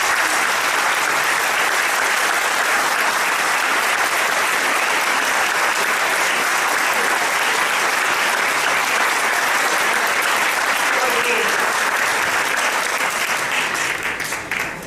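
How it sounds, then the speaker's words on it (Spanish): Large audience at a book fair in Córdoba giving sustained, loud applause for a speaker, a dense unbroken wash of clapping lasting many seconds before tapering slightly at the end. "Les pido un aplauso por esa actitud."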